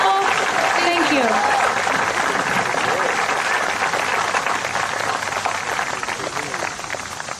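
Audience at a Peoria Municipal Band summer concert applauds steadily, a dense wash of clapping that holds for the whole stretch and thins slightly toward the end, with a few voices mixed in.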